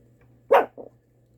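A dog barks behind a closed bedroom door, one loud sharp bark followed by a softer second bark, close by in an otherwise quiet room.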